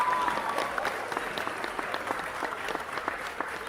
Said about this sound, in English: Can we get a round of applause for my man Green Fingers out here just killing it with these trades